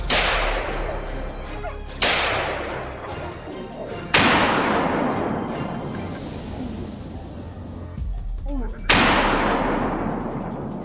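Loud, close gunshots ring out during a wild boar hunt, four or five heavy cracks spaced a couple of seconds apart, each trailing off in a long outdoor echo.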